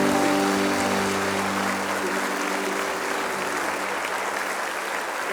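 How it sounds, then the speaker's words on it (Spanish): A church congregation claps together in sustained applause, with faint tones lingering underneath at first, while the clapping stays even and full until the end. "Le damos un aplauso, mis hermanos."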